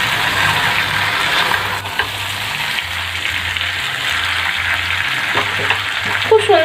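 Cauliflower and fish curry is stirred in a frying pan, with a loud, steady broadband sizzle and scraping of a spatula, close by and without talk.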